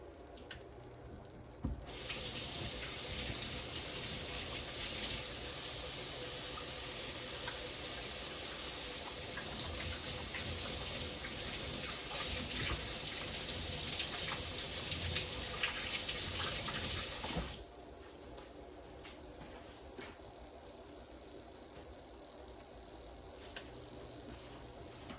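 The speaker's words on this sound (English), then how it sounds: "Now I'm gonna wash my hands." Faucet water runs into a kitchen sink for hand washing during cooking, a steady soft hiss for about fifteen seconds that then drops to a quieter background, with no talking.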